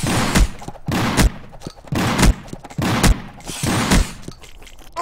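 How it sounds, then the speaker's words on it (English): Trench gun blasts in the video game Boring Man go off as loud, close booming shots, about five of them in a rough rhythm, each trailed by a short crackling decay. "Make that two direct shots from the trench gun!"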